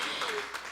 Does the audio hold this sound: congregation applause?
yes